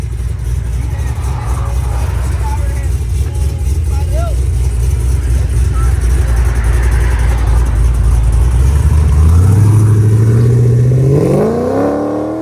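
A cammed Chevy Caprice 6.0L V8 with open long tube headers and a 3-inch true dual exhaust idles with a loud, lumpy, loping burble, then revs hard, the pitch climbing sharply near the end while people talk nearby.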